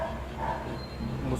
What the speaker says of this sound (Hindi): मुसलसल कुत्तों की भौंकने की आवाज़ें आ रही